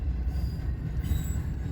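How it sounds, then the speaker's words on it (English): An eastbound double-stack freight train rolls past in Fremont, Nebraska, with a steady heavy rumble of wheels and a faint high squeal running throughout. "here comes the end of that short little eastbound stacker"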